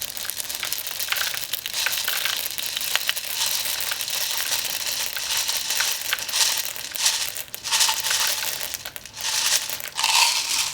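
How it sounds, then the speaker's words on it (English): Plastic BBs pour into a container for powder coating lead bullets, making a continuous rattling, crinkling cascade of small hard pellets that surges and thins in bursts, close and fairly loud. "So let's go ahead and dump the plastic BBs in."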